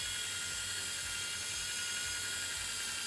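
A sanding and polishing kit for bikes runs steadily, a constant high whirring hiss with no change in pitch or volume, close and alone without speech.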